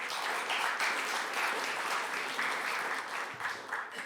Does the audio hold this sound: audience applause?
yes